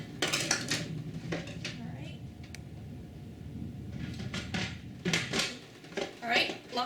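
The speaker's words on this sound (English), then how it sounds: "Put all of your jars inside of your canner." Glass jars set down one after another inside a pressure canner, with clustered clinks and knocks at the start and again near the end and quieter handling between, while a person talks over the clatter.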